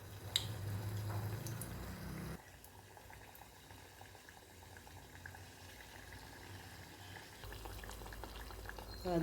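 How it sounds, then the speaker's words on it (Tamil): Adhirasam, a sweet made from store-bought rice flour, bubbling in hot oil: a quiet, continuous frothy boil that steps down in level partway through, then rises again near the end. "அதிரசம் கொதிச்சுன்னு இருக்கு"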